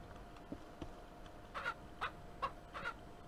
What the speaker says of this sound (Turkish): Bak burada iki civciv oldu.